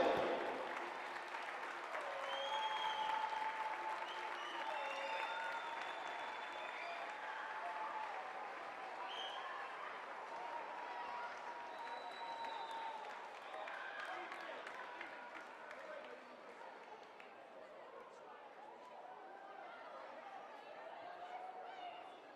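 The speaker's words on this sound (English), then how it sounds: "Give them all a round of applause" A stadium crowd applauds steadily after a women's football trophy presentation, Posh Women against Hashtag United Women, the clapping faint and distant, spread across the stands with light chatter and a few voices mixed in.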